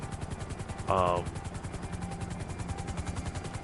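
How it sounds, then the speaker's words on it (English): A Swift helicopter flies in a video game, its rotor giving a steady rhythmic low thumping chop throughout, with a brief tonal game sound near the start. "I do enjoy flying this helicopter"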